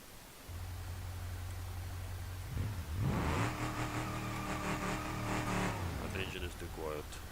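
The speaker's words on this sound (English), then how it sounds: "That engine is too quiet." Car engine in the BeamNG.drive driving game, first a low steady idle, then a sharp rev climbing and holding at high pitch for several seconds before dropping away, fairly quiet overall and heard without talk.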